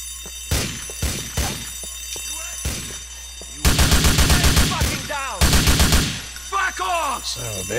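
Bursts of automatic gunfire in the video game Grand Theft Auto IV, with sharp isolated shots early on followed by two long, loud rapid-fire volleys and ricochet-like whines between them.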